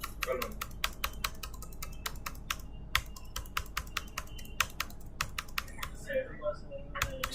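Computer keyboard typing with Enter key presses while configuring a log server on RHEL 7: dense, even clicking of keys throughout, close and moderately loud, with a few heavier strokes.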